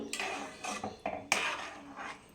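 A spoon stirs vegetarian Bengali-style sabudana khichuri in a metal pot, giving irregular clinking scrapes and knocks in short uneven bursts, close and moderately loud, with no talk.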